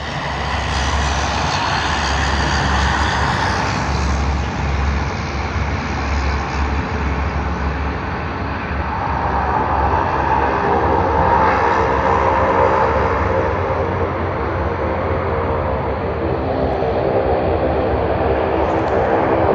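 A Link Airways airliner arriving at Sydney Airport on the Canberra to Sydney service, a loud, steady engine roar that holds strongly throughout and shifts tone midway as the aircraft passes nearby, with no talk.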